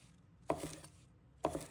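Scallions are chopped into short pieces on a board: two quiet, crisp knife chops land about a second apart in a near-silent room.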